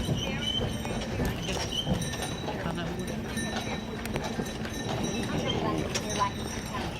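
Horse hooves clip-clop in a steady rhythm while pulling a buggy on an Amish buggy ride, with wheel rumble and rattling underneath and people talking over it.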